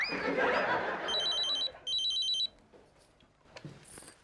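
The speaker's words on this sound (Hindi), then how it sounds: "सुना सुना भाभी, सुना सुना, फोन बजता।" A telephone rings in two short electronic bursts of trilling tones, fairly clear, followed by faint background clatter.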